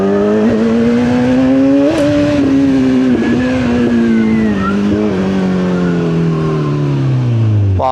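A Kawasaki Z1100 naked motorcycle in sport mode accelerates hard, the engine note loud and close, climbing through the revs with brief shifts before easing off.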